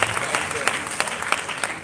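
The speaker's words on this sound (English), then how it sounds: "Please let's give her a round of applause as she comes to remark." An audience at a Nigerian live event gives a round of applause as a woman comes up to speak, with distinct individual claps standing out over a moderate crowd patter, mixed with some voices.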